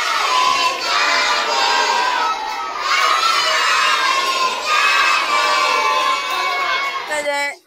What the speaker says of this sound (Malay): Itu dia dari tepuk tangan.